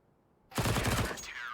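AK rifle fired in a video game, a sudden loud close burst of rapid automatic shots that starts after a quiet moment and runs to the end with a ringing tail.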